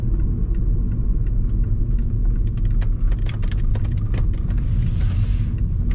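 A 2002 VW Passat wagon taking a turn fast, heard from inside as a steady low engine and road rumble, with a scatter of short clicks and ticks over the drone.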